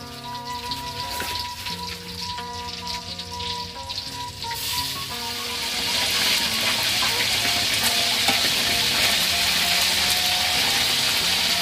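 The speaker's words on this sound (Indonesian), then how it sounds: "Goreng ikan mas." Goldfish carp sizzling and crackling as it fries in hot oil, a dense steady hiss growing louder midway and continuing throughout, with no talking.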